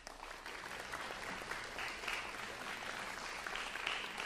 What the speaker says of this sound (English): students, we're going to clap for our parents.